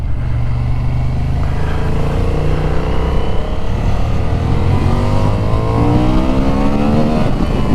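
A 2025 Honda Hornet 750 with a parallel-twin engine revs hard and loud in second gear as it accelerates to overtake a car, its pitch climbing steadily close to the rider with no talking.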